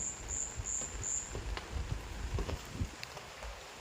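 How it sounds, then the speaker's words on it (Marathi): Steady patter of rain at night, a soft continuous wash with scattered drops and a high insect trill faintly at the start. "अजून पण बाहेर पाऊस चालू आहे बघा. आवाज येत असेल तुम्हाला"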